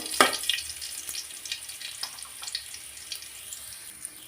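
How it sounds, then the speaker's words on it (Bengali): Minced garlic fries in a pan until golden, giving a light crackling sizzle with scattered small pops and one sharper clatter at the start, moderately close. "তো রসুনটা আমি গোল্ডেন কালার করে ভাজি করে নিচ্ছি"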